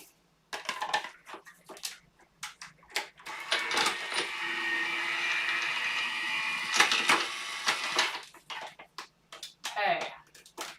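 An electric heat embossing tool blows steadily for a few seconds over embossing powder on a card, surrounded by close handling clatter and rustling of papercraft supplies.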